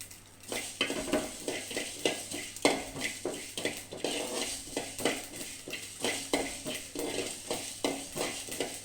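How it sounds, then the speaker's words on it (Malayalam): Mustard and fenugreek seeds popping and sizzling in a pan for papaya pickle, a steady frying hiss broken by quick irregular crackles and pops, close and alone. "കടുക് പൊട്ടിക്കൊണ്ടിരിക്കുന്നുണ്ട്"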